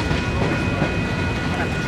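Loud, close rumble of Union Pacific grain train cars rolling past in Stockton, California, a dense continuous roar with a faint steady tone on top.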